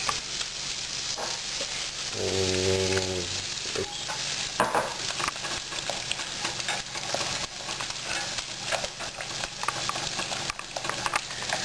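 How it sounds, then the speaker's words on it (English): Red curry paste and soy sauce being whisked into simmering coconut milk in a pan, a continuous close bubbling sizzle with rapid rhythmic whisk scrapes and clinks, plus a brief tonal beep early on. "About a tablespoon of soy there, and then we just whisk."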